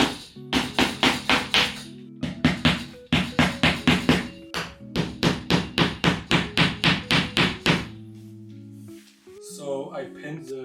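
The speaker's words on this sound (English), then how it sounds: "I have a little hammer I use to pin it to the wall." A small hammer taps push pins through canvas into a studio wall in quick rhythmic bursts of sharp close knocks, with short pauses between groups. A voice speaks briefly at the end.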